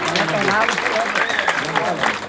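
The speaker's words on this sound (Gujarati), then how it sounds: "તાળીઓનો ગડગડાટ." Audience applause at a welcoming ceremony for foreign tourists in Junagadh, a dense continuous clapping mixed with voices and crowd chatter throughout.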